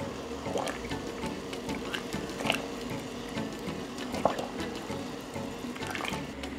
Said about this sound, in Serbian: U nezasuljenu i proključalu vodu spuštat ću paprike i blanširati ih 3 do 4 minuta